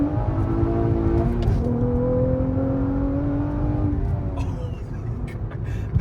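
Swapped J37 V6 in a 2004 Acura TSX six-speed revving hard toward a 7,300 rpm limiter, a loud sustained engine note with rising and falling pitch, easing off near the end; outdoors at a car show.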